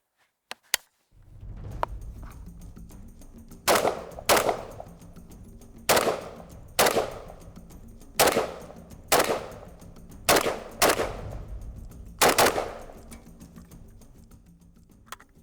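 A Polish AK rifle fires 7.62x39 rounds at a shooting range, about ten sharp, loud single shots, mostly in quick pairs spaced a second or two apart, each ringing out briefly.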